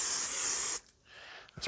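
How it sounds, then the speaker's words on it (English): Pam cooking spray hisses into a bowl during pretzel dough preparation, one loud close burst just under a second long, then a short faint puff. "some olive oil, some Pam. I'm going to spray some in here."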